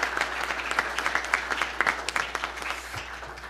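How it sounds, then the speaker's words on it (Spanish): Warm applause from an audience at a corporate governance event, individual claps distinct within a moderately dense, steady burst over a low constant hum. "Les pido por favor un fuerte aplauso."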